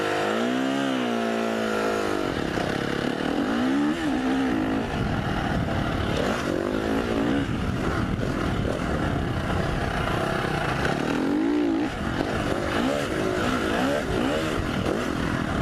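A KTM 350 motorcycle engine drones under riding, close and loud, rising and falling in pitch as it revs through gears with constant wind rush behind it.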